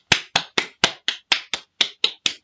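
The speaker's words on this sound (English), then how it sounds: "So I think we should give our mums a big round of applause." Hand clapping sounds in about eleven sharp, evenly spaced claps over a couple of seconds, close and crisp with nothing else behind them, fewer hands than a full group's round of applause.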